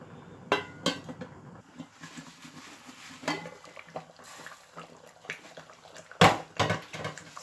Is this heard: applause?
no